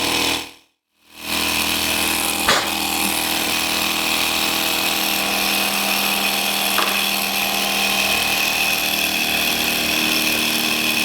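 A model vacuum flame-licker engine runs on a table, giving a steady, continuous whirring hum with a brief click partway through, close and even throughout after a short silent gap at the start.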